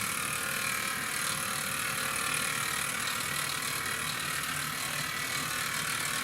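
A Hornby Duck model locomotive's small electric motor runs steadily, giving a continuous close-up whirring rattle with a fine mechanical clicking texture and no voices.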